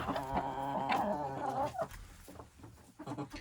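Chickens cluck and squawk close by, a burst of raspy calls followed by softer scattered clucks.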